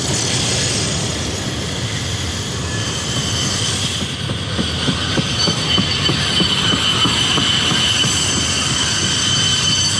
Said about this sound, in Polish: właśnie tutaj nadjeżdżają dwa tramwaje i będzie dość głośno